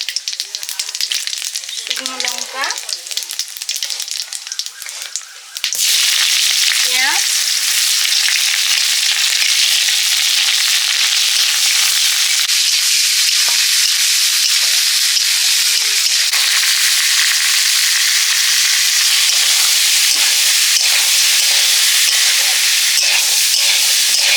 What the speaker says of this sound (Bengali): একটু ফোড়ন দিয়ে পেঁয়াজ টেঁয়াজ দিয়ে সেদ্ধ ছোলাটা নেড়ে নেব